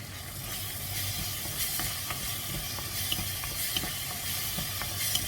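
Eggplant frying in plenty of oil with oyster sauce, a steady loud sizzle with occasional crackles and stirring scrapes throughout, no talking.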